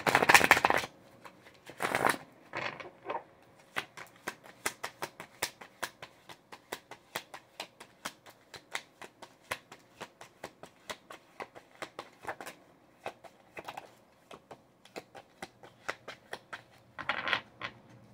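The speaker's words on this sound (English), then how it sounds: "We're going to clarify this crop circles card." Tarot cards are shuffled close by, a loud riffle opening into a long run of quick, crisp card snaps at a steady pace, with a few brief louder riffles along the way.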